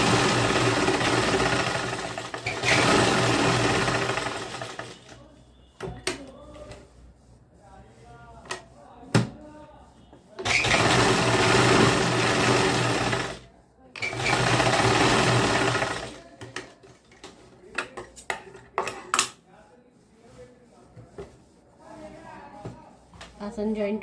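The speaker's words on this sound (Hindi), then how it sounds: "इस तरीके से हम यहाँ पे स्टिच लगा लेंगे" Sewing machine stitching a semi-Patiala salwar seam, running in loud bursts of rapid mechanical whirring that stop and restart three times, with quieter fabric handling and a few clicks between runs.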